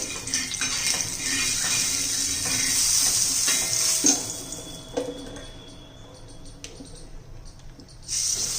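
Oil sizzles steadily on a hot tava used for bhakri, in preparation for frying crisp eggplant slices; a continuous close hiss with a few faint clinks and brief quieter dips, no talking.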